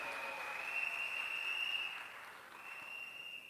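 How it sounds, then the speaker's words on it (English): Soft, distant applause from an audience at a political meeting, faint and steady, with a thin high whistling tone running through it. "Give them a round of applause."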